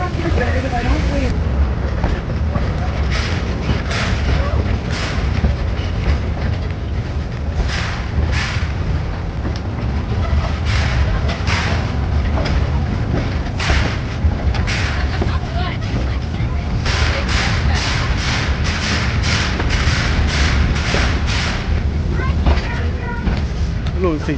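A steam train rolls along with a steady, continuous rumble of wheels and carriages and rhythmic bursts, heard from on board, loud and close throughout with voices audible in the background.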